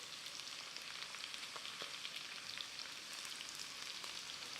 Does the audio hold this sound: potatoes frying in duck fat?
yes